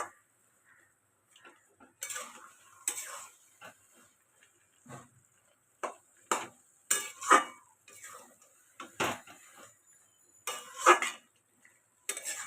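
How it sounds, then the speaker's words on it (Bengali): Pumpkin curry is stirred in a pan with a spoon, giving intermittent clinks and scrapes against the metal in irregular bursts over a quiet background. "এটাকে মিক্স করবো।"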